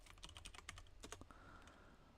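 Quick, light keystrokes tapped on a computer keyboard in a short irregular burst, close and fairly quiet, with no voices.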